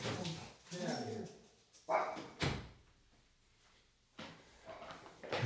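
A pet dog barks indoors in a room during a live futures trading session, a couple of sharp loud barks amid door-like bumps and someone talking nearby.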